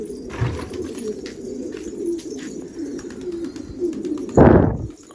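Pigeons coo softly and continuously nearby, with a few faint chirps and a brief rustling burst near the end.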